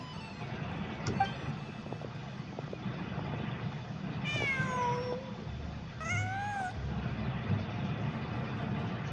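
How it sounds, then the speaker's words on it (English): A cat in a video game meows twice, clear rising-and-falling cries set against a low, steady background rumble. "Just a cat."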